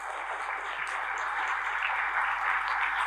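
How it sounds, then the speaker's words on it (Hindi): Steady applause from an audience at a network marketing seminar on IMC direct selling, a dense, even wash of clapping that holds at a constant level for about three seconds with no voices over it. "ताली बजना चाहिए।"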